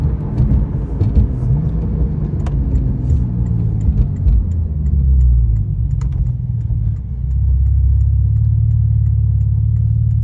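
A 2017 Porsche 911 Turbo S pulling at partial throttle, roughly a third of full power, with a steady low engine rumble that rises and holds louder toward the end, no voices.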